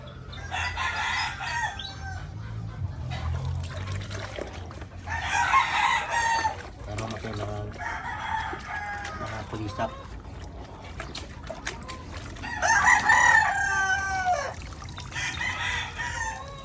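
Chickens crow and cluck in several loud bursts against steady background noise, with some indistinct voices mixed in.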